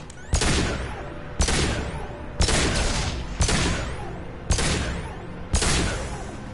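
An overridden turret in Mass Effect 2 fires six evenly spaced heavy blasts, each loud and close with a ringing tail that fades before the next shot.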